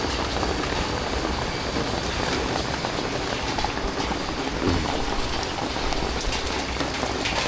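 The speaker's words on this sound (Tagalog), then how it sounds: "tuloy-tuloy pa rin ang ulan" Continuous heavy rain falls during a flood where homes are stranded, a dense, steady hiss of drops on surfaces that holds without a break from start to finish, with no voices.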